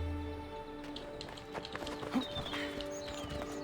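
Horse hooves clip-clop at a steady trot in Assassin's Creed Odyssey, with a brief whinny partway through, moderately quiet under an ambient game music bed.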